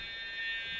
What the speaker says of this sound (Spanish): el cargo está pitando